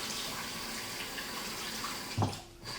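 Shower water runs steadily and close by while a beard is washed, a continuous broadband hiss with no voices and a brief splash or thump near the end.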